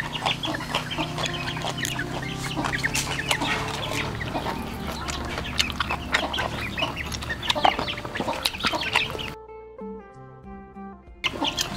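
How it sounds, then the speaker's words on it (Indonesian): A flock of chickens clucks busily and continuously, overlapping calls close by, before the sound drops to a quieter, thinner stretch near the end. "Rame sama ayam."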